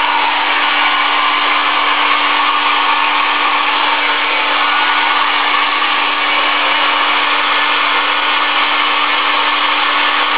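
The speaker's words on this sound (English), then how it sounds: "So I'm just going to get the hairdryer." A hairdryer blows continuously at close range to heat a Samsung LE40A656 TV with a blinking power LED, a loud, steady whooshing roar with a constant motor hum, no voices.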